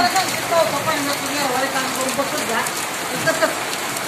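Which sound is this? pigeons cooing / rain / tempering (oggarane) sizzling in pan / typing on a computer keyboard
rain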